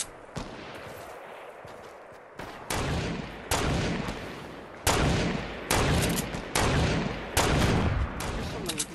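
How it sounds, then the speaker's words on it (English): Gunfire in a Fortnite match erupts in dense, loud bursts of rapid automatic shots, broken by brief gaps and repeating almost continuously; a voice is faintly present under the shooting. "Guys, start shooting!"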